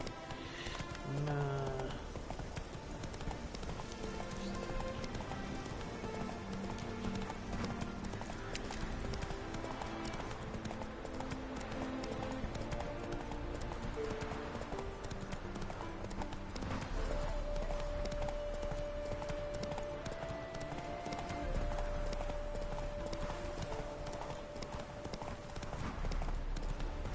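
Roach the horse gallops in The Witcher 3, a steady rapid clip-clop of hooves that runs the whole time under game music and ambient sound, with a brief whinny.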